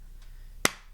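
A single sharp hand clap made during a Nintendo Switch 1-2-Switch game at a D.C. event, loud and brief against a quiet room hum, with a faint tail afterward.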